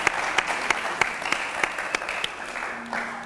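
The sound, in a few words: audience applauding and acclaiming the Lord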